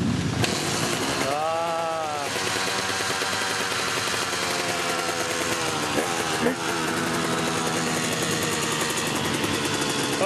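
A white KTM motorcycle engine starts up and idles at a race track, with a rough, steady mid-pitched drone and brief revs, heard amid dense background noise.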